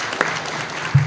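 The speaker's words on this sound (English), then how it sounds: "if we could get a round of applause for them as well" A brief burst of clapping from the audience at a Board of Education regular meeting, a short steady patter of hands with a faint thump near its end.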